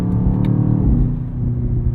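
The engine of a 2024 BMW XM Label, a 738hp SUV, hums steady and loud in a low, rumbling drone with a slight swell, and no voices are heard.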